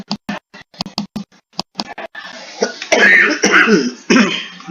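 Repeated close coughing and throat clearing during an online lecture on archive appraisal criteria, a rapid run of sharp bursts that gives way to a longer, rougher stretch of coughing.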